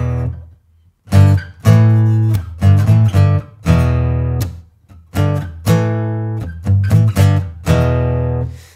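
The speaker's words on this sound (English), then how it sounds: "If I play the power chord version, it'll sound like this." Electric guitar riff played as power chords in an easy rock song, a series of loud, distorted chord stabs in short bursts with brief gaps, played alone.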